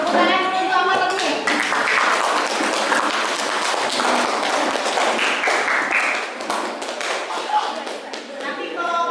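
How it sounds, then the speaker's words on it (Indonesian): A school class claps hands together in a classroom, a busy mix of many children's claps and taps with voices and some shuffling and thumps throughout, steady and fairly loud. "Tepuk tangan dulu untuk amanat nih."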